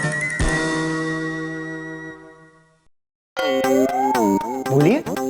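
A doorbell rings at a second-floor flat in a city apartment building, a bright bell tone that decays over about three seconds, then after a brief silence a second electronic chime sounds with sliding melodic tones.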